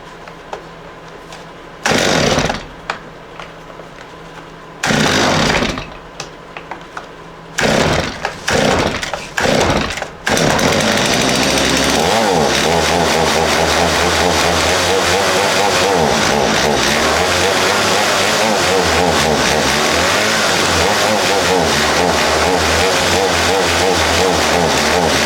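A STIHL MS 250 chainsaw suffering from fuel starvation bursts into loud roars that cut out several times in a stop-start sputter, then catches and runs continuously at a loud, wavering, uneven pitch.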